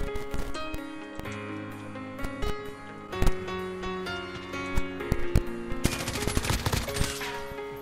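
M4A1 rifle fire in a Modern Warfare free-for-all match, repeated sharp bursts and scattered distant shots over game music, growing busier and louder toward the end.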